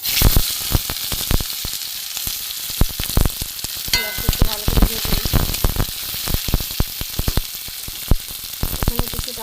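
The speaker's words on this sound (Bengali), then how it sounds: "এখানে আমি কিছুটা পেঁয়াজ কুচি দিয়ে দেবো" Chopped onion sizzles loudly in hot oil in a pan, a constant bright hiss punctuated by frequent clattering stirs and spatula knocks throughout.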